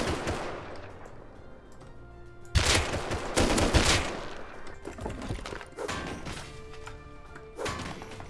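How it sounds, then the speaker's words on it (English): Constant gunfire outside a building in the video game Rust comes as repeated sharp bursts and volleys, some loud and near, others more distant, spread across the whole stretch with no talking. "Ignoring the raw, constant gunshots outside"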